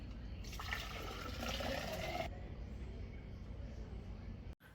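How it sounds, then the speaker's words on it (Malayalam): A container fills from a running water tap with a steady rushing stream that brightens and then settles into a softer, continuous pour before a brief dropout at the end. "വെള്ളം നിറയ്ക്കുക."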